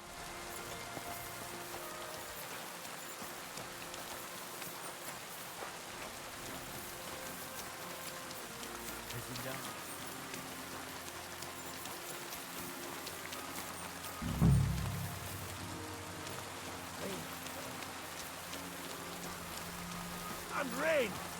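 Rain falls steadily in Kingdom Come: Deliverance II, a constant soft patter under faint game ambience, with a brief louder thump around the middle and another near the end.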